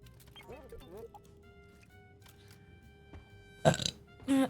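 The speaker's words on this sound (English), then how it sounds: "It's a loud burp." A loud human burp close to the microphone, a short harsh eructation followed by a second rumbling burst, coming after a stretch of quieter game sounds and faint voices.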